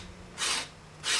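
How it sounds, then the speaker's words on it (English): Two short abrasive strokes of a sanding board on the back end of a small piece of reed cane, each a brisk rasping swipe, close and fairly loud with a pause between. "I'm just using the sanding boards here."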